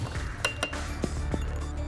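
A spoon clinks several times against a glass while stirring baking soda into barbecue sauce, sharp close taps with a quiet background.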